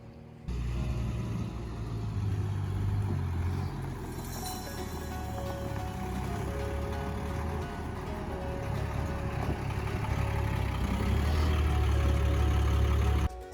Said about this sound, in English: So our pump truck arrived.